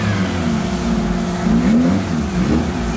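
Volkswagen Voyage car engine revving hard while its wheels spin, a steady loud roar with rising pitch sweeps, heard close with no talking.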